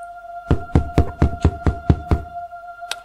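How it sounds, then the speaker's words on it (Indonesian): Seven firm knocks on a wooden door in a quick, even series, followed after a pause by one more single knock, close and clear against a faint steady hum. "Suara pintu diketuk terdengar."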